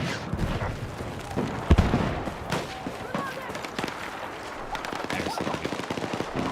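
Hostile machine gun fire in the video game Battlefield 6 crackles in rapid bursts amid scattered gunshots and booms, with voices talking over the battle noise.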